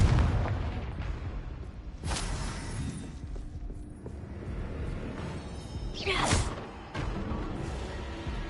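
Confringo blasts in Hogwarts Legacy go off as sharp booming bursts, one early and a stronger whooshing impact later, set against busy combat ambience with mechanical clatter.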